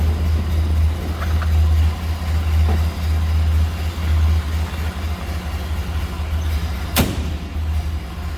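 A 1929 Ford Model A Roadster engine idles steadily with a low, even rumble, close and continuous, with a single sharp knock partway through.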